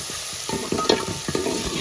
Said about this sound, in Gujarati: આવી રીતના હલાવવાનું છે.